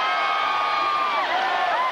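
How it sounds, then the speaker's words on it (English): A stadium crowd roaring at a 1993 Alabama versus South Carolina college football game, a dense, sustained wall of cheering with rising and falling whoops above it. "Listen to the crowd now as they're trying to get their football team in this ball game."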